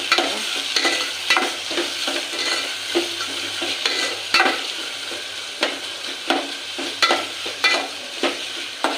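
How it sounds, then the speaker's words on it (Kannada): Onion and tomato stirring and frying together in a pan for a potato and peas palya, a steady sizzle broken by repeated scraping strokes of the spoon, close up with no talking. "ಈರುಳ್ಳಿ, ಟೊಮೊಟೊ ಒಟ್ಟಿಗೆ ಸೇರಿಸ್ಕೊಳ್ತಾ ಇದ್ದೀನಿ. ಚೆನ್ನಾಗಿ ಮಿಕ್ಸ್ ಮಾಡ್ತಾರೆ."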